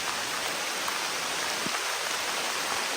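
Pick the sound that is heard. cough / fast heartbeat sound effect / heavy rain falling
heavy rain falling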